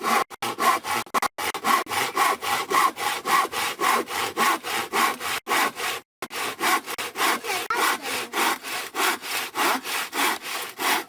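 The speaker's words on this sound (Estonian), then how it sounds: "kui sa saed, siis see märkejoon läheb pooleks" A sharp handsaw rasps through wood along a marked line for a birdhouse in fast, even back-and-forth strokes, close and loud, with a couple of brief pauses.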